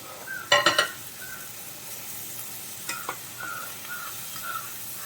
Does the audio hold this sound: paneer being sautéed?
yes